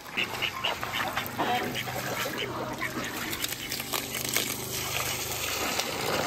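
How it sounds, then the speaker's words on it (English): Ducks quacking steadily in a noisy outdoor flock on a farm with goats, with a constant background hiss and some faint voices mixed in. "That's what keeps the ducks happy more than anything."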